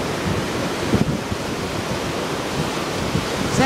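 Ocean surf rolls steadily along Myrtle Beach, a broad continuous wash of waves mixed with wind buffeting the microphone.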